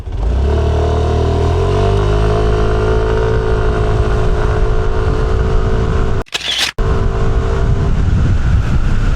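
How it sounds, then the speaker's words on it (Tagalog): Yamaha Lexi 155 scooter with a 155cc engine accelerating hard from standstill toward 60 on a test ride, engine whine rising and holding steady at high revs with heavy wind buffeting throughout. "Test ride na natin itong Lexi 155. Testingin natin 0 to 60."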